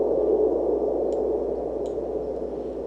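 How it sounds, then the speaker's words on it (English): A hi-hat sample time-stretched far beyond its original length for Anjunadeep-style electronic music turns into a sustained, hissy wash of noise that fades slightly over three seconds, with a couple of faint ticks and no talking. "This was a hi-hat."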